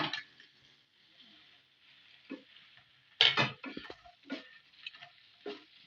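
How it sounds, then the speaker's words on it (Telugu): Pieces of egg are stirred into masala in a pan for egg Manchurian, with scattered scraping clinks and soft stirring strokes over a quiet background. "బాగా కలుపుకొని ఆ మసాలా అంతా దీనికి పట్టేలాగా బాగా కలుపుకుందామండి"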